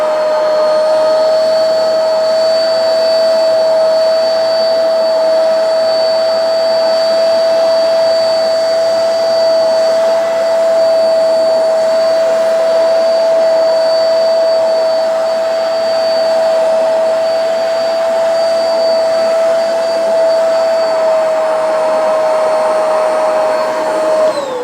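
Hoover portable carpet spot cleaner (Spotless or CleanState Plus) running continuously, a loud steady motor whine with a constant pitched tone and broadband airflow hiss, no talking.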